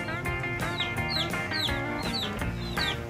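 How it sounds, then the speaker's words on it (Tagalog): A chicken clucks repeatedly in short, sharp bursts with a rising squawky edge, fairly close and clear, several calls spaced across a few seconds with no talking. "Itong manok ni Kuya ay makulit."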